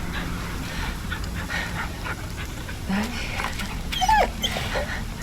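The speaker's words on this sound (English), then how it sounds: "Oh my god, what a cute dog." A dog whimpers in The Medium video game, a few short high whines over a steady broadband game ambience, with someone talking nearby.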